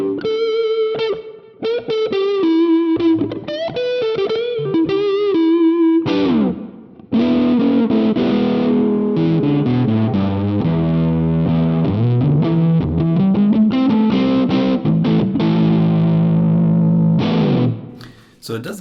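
An EART EGLP 610 electric guitar on its neck pickup through a mid-gain amp with mild overdrive. It plays loud, continuous lead lines and chords with some low-register muddiness, ending on a ringing chord before a brief pause and a last strum.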